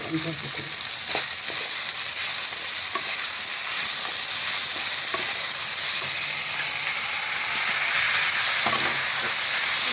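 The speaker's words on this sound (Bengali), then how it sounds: "ভালো করে নাড়াচাড়া করে নেব" Sago frying in a pan with chillies and spices, a loud, continuous hissing sizzle close up, broken by occasional scraping strokes as it is stirred.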